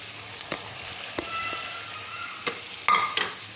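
Potatoes tip into peas frying in a pan, setting off a lively close sizzle punctuated by several sharp clinks and clatters of pieces and utensil against the pan, with no talk.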